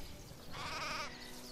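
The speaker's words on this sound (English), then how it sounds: "there's some sheep here already waiting" A single sheep bleats briefly in the Craft the World video game, a short wavering cry at moderate volume over quiet background ambience.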